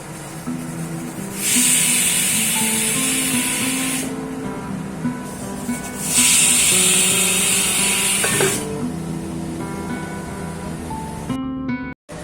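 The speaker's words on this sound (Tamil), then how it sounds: "கொஞ்சமாக கடுகு கருவேப்பிலை இது எல்லாமே சேர்த்துட்டு நல்லா பொறிஞ்சு வந்த உடனே நம்ம இந்த குழம்புல சேர்த்துக்கலாம்" Mustard seeds and curry leaves sizzle in hot tempering oil for a quail kuzhambu, a steady loud hiss and crackle that swells in two bursts, with faint kitchen clatter underneath and no talking.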